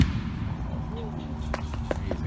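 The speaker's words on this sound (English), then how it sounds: "I will then fire the gun. It will sound like a gunshot." A historical gun demonstration in St. Augustine, Florida, with a few sharp reports heard near the end over steady crowd murmur and chatter.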